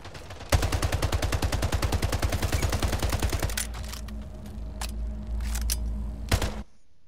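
Rapid automatic gunfire rattles in the video game Splitgate, a fast, even stream of loud shots for about three seconds, then a rumbling background with a few sharp single reports before it cuts off.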